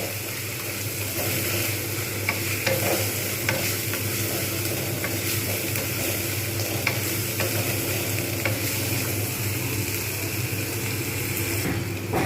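Ground turmeric, nutmeg, mace, coriander and cumin powders being sautéed in a pan for Punjabi dhaba-style rajma paneer, a steady close sizzle with scraping stirs throughout and no talking.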